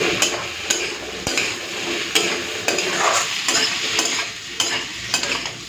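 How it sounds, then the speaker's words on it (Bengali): Potatoes fry in hot oil in a home kitchen pan with a steady close sizzle, while a spatula scrapes and stirs them in regular strokes, and nobody speaks. "বেশ এরপরে লাল করে আলুগুলোকে ভেজে নেব।"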